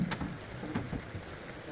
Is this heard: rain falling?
yes